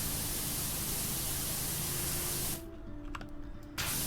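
A pressure washer sprays steadily in the PowerWash Simulator video game as a continuous loud hiss, then cuts out briefly before resuming.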